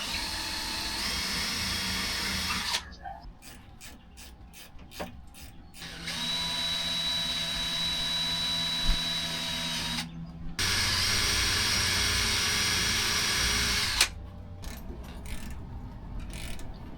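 A power drill whirs into a board in several sustained runs, rising and cutting off between them, with ratcheting clicks in the pauses; it is close and loud.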